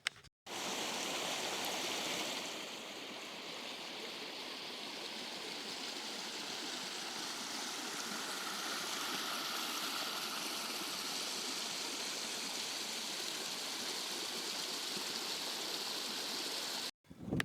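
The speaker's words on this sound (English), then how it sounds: "this portage is going past a little waterfall" Small waterfall beside a wilderness portage trail, a steady close rushing hiss of falling water that holds at an even loudness throughout with no voices.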